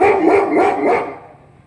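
A dog gives three quick, loud barks in a row, close by, followed by a fading tail of quieter sound.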